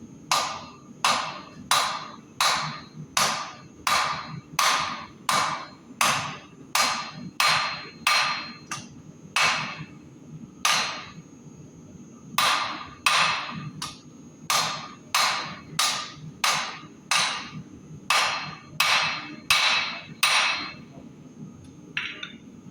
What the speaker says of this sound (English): I'm going to just kind of start forging at the tip of the knife